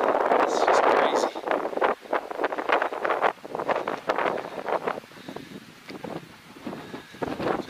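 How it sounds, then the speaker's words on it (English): Strong gusting wind high on Roan Mountain in the Tennessee highlands at about 6,200 feet buffets loudly across the microphone in rushing bursts that ease later, while a person talks over it. "Look at this wind. It's just crazy."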